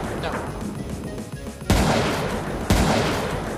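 Two loud, close sniper rifle gunshots in a shooter video game, sharp cracks about a second apart, each trailing off in a long echo over busy background game noise.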